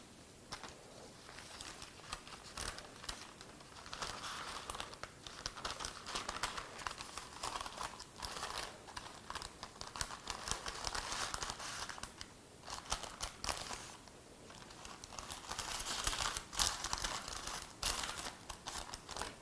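Parchment paper is rolled into a piping cone, giving faint, irregular crinkling and rustling in soft bursts with brief pauses, heard up close with no talking.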